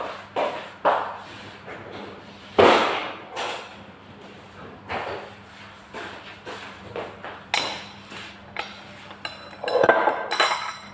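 Salad tossed in a bowl after black pepper is added, with repeated clinks and scrapes of utensils against the dish in irregular bursts, fairly close and moderately loud.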